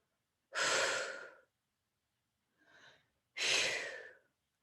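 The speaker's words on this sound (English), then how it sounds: "I'm doing a lot of breathing." Heavy breathing, close and loud: a long, forceful inhale-exhale, then a short quieter breath after a pause, then another long heavy breath, all with silence between.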